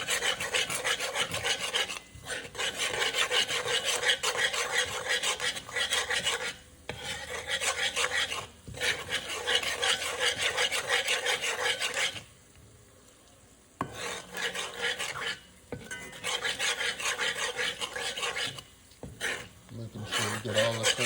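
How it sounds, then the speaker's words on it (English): A spoon stirs Jamaican-style curry chicken around a pot, making rough, close scraping and rasping strokes in repeated bursts separated by short pauses. "All you're doing is stirring it around, right?"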